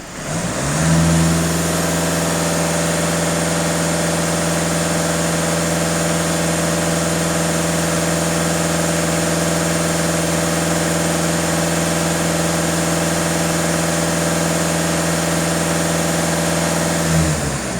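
A Skoda Superb 2.0 TDI diesel engine is held steady at about 2500 rpm, a close, continuous mid-pitched drone with a steady hum throughout and no voices.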